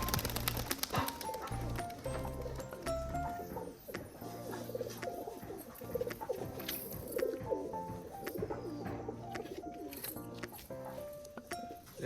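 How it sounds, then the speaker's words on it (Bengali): Crested pigeons nesting on eggs coo repeatedly in a cluster of overlapping low, throaty calls, close and continuous. "এদিকে সব পায়রা, এগুলো সব ডিমে বসে আছে।"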